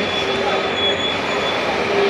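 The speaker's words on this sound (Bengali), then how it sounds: "ট্রেনটা থেমেছে" A train grinds to a halt with a loud, sustained high-pitched wheel squeal over heavy rumbling, constant throughout.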